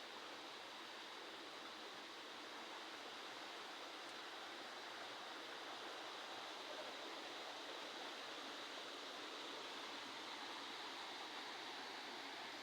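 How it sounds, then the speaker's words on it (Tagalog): A creek flowing near rocks outdoors, a steady, broadband rush of running water holding constant and fairly faint throughout with no voices. "dito na yung sapa."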